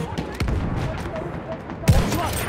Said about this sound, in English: I think someone is shooting at me.